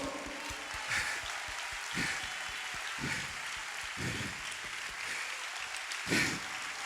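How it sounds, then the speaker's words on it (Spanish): Congregation at a national church convention applauding, a soft continuous patter of many hands with louder rhythmic thumps recurring about once per second, heard from a distance. "Un aplauso."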